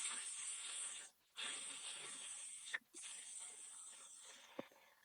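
A voice imitates a cat's hiss with long, breathy exhales repeated in sustained bursts separated by brief pauses.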